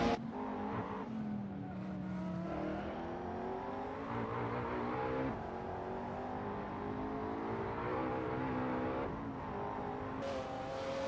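Race cars in an AI-driven racing simulator at Road Atlanta, including a Lamborghini supercar, roar continuously with layered engine notes rising and falling through gear changes, several cars close together and loud throughout.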